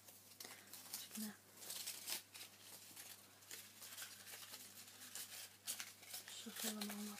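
Cards being shuffled during a soft-spoken ASMR session: close, quiet papery flicks and crinkling patter in irregular bursts, with faint low voice hum beneath.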